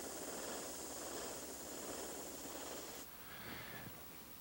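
An airbrush sprays paint onto canvas with a steady close hiss that cuts off and resumes more softly.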